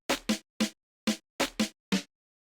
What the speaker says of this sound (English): And then the little fill snare sounds like this.